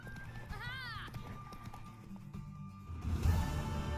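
A horse in the video game Witcher 3 after a horse race: a whinny followed by hoof clip-clops and a louder rush of movement near the end, with game voices talking over it.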